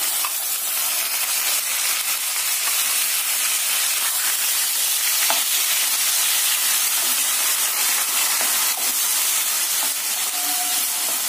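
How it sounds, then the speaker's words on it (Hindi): Onions sizzling in a pan with ginger-garlic paste while being fried until golden brown for jackfruit kofta, a steady, loud hiss and crackle that runs continuously throughout with no talk. "और गोल्डन ब्राउन होने तक प्याज को भुनेंगे।"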